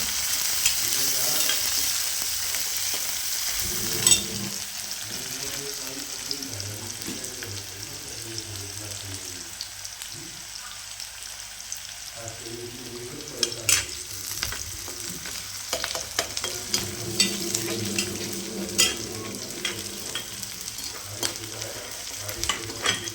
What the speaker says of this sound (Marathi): आता तेलात चांगलं परतून घेऊ.